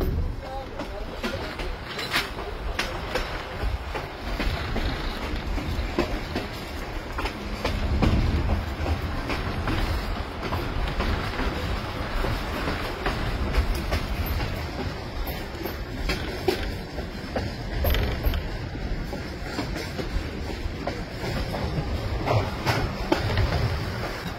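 Tourist train ride through the Quarta Colônia region of Brazil, a continuous rumble of rail cars with rhythmic wheel clatter and occasional squeals, heard from on board with people talking in the background.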